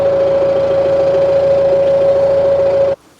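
A tractor engine runs steadily at idle in a garden setting in Wyoming, giving a loud, close, even drone with a strong constant tone and a knocking mechanical rhythm underneath. It stops abruptly near the end.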